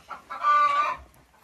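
Laying hens in a henhouse give a short burst of clucking, one close, fairly loud call rising and falling over about a second, with no talk.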